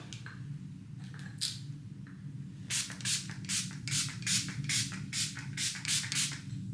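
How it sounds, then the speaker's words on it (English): A string of quick, hissy bursts of makeup setting spray, about a dozen short spritzes in a steady rhythm close up, after a few softer clicks and rustles. "Now we're gonna finish everything off with Ace Beauty Set Lock Setting Spray."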